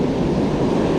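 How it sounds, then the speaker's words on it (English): Steady wind gusting across a beach during surf fishing, a loud continuous rush buffeting the microphone, with no speech. "The wind is blowing against my face now"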